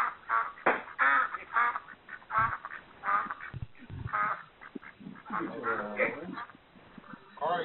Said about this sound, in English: Got to tend to your ducks.